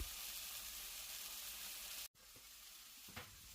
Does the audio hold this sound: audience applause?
no